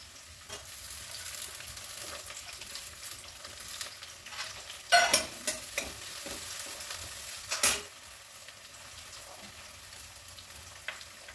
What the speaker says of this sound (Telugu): నూనె వేడైంది. ఆనియన్స్ వేస్తున్నాను.